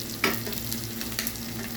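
Garlic and green chilies fry in hot oil for lemon rice, a loud, steady sizzle close up with a couple of brief stirring scrapes.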